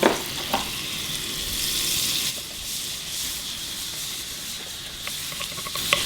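Salted butter sizzles steadily in a hot frying pan, a soft crackling hiss with faint scraping now and then.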